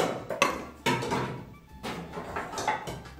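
Pots and pans clatter as they are handled inside a home oven, with several sharp metallic knocks and scrapes in close, irregular bursts, no talking.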